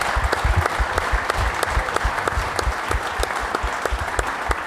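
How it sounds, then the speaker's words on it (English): Studio audience applause on a football talk show, a steady dense wash of many hands clapping, loud and continuous with no talk over it. "Give him a big round of applause, everybody."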